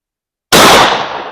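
A shotgun fires a Foster slug with a GSC-12 tail wad, producing one sudden, very loud, close blast after silence, followed by a decaying rumble.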